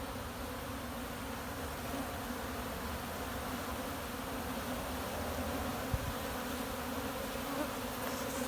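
Honeybees drone all around an opened hive in a continuous, even buzz, close and steady with no voices, and a single faint knock partway through.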